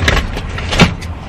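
A car door thuds as someone climbs in, followed by the brief whir of electric windows, all close and quick in a short burst.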